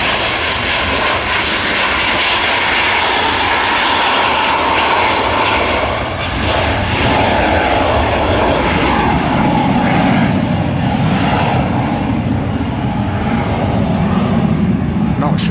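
An Embraer Phenom jet passes at Manchester Airport, a loud, steady engine roar filling the whole stretch close by, with a voice talking underneath.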